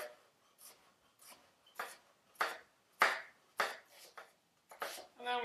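A chef's knife slices horizontally through an onion on a cutting board, giving a series of about ten short, crisp cuts in an uneven rhythm, close and fairly quiet, with no talking.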